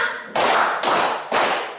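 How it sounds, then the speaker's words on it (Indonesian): A class of schoolchildren claps in unison three times, three loud sharp group claps spaced evenly about half a second apart. "Oke, tepuk 3 kali untuk kita semua."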